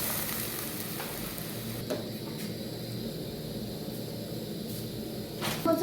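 Soybean chunks fry in a pan with a soft, continuous sizzle and occasional stirring clicks and scrapes. A louder clatter arrives near the end.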